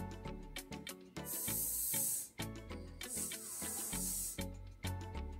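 A voice imitates a snake's hiss for the letter S, making two drawn-out hissing bursts over steady background music in a children's circle-time lesson.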